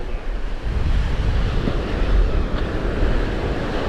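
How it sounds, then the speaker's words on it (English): North wind blowing hard on a Florida beach, a steady loud roar buffeting the microphone with surf mixed in, continuous throughout with no talk. "It's that north wind."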